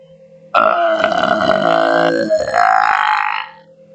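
A human voice imitates the deep, rattling frog-like croak from the 2004 horror film The Grudge, one loud drawn-out guttural creak lasting about three seconds.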